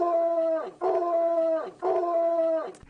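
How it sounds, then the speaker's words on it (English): A guard dog gives three drawn-out, howl-like calls in a steady rhythm, each held for most of a second with brief pauses between, loud and close. "Bark 3 times if you can hear this."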